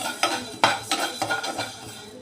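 About 250 grams of cumin seeds, with black pepper, dry-roast in a pan while a utensil stirs and scrapes them in quick strokes. Close metallic scraping and a faint crackle come at an uneven rhythm, with no voices.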